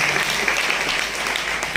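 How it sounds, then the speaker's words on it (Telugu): A church congregation at a Catholic feast-day mass applauds loudly, with dense, continuous clapping from many hands filling the hall. "గట్టిగా చప్పట్లతో వందనాలు తెలియచేద్దాం"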